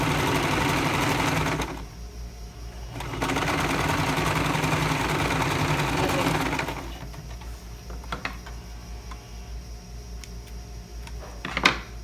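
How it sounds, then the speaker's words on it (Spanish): Sewing machine stitching the zipper fly on a pair of women's trousers, a loud continuous motor whir in two bursts separated by a short pause, then quieter handling clicks and fabric rustle. "Lo voy a coser y va sujeto"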